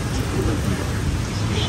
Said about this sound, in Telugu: వాన పడుతుంది బయట.